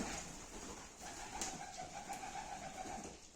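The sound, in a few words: pigeons cooing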